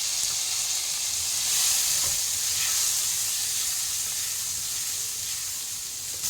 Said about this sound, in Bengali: এইবার আমি কাঁঠাল বীজটা সিদ্ধ করে রেখেছিলাম এটাকে দিয়ে দেবো এতে এটাও এর সাথে ভেজে নেবো ভালো করে